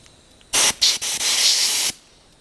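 A spray gun sprays after its nozzle has been cleaned, with several short hissing bursts followed by one longer close spray before it stops.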